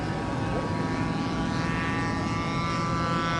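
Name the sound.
RC model airplane engine under throttle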